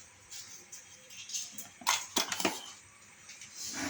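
Piston ring being fitted onto a Royal Enfield Classic 350 piston, the third ring going on by hand: quiet, close metallic clicks and light scrapes, with a short cluster of sharper ticks in the middle, no talking.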